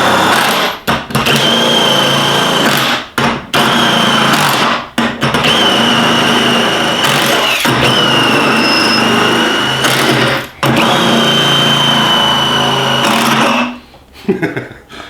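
A drill-powered wrench driven by a drill on a dying battery whirs loudly in long bursts, stopping and restarting several times, the motor pitch sagging and wavering before it winds down at the end.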